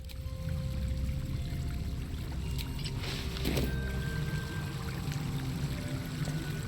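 Water runs from a faucet in the video game Baldur's Gate 3: a steady, fairly quiet rushing stream that continues throughout with no voices.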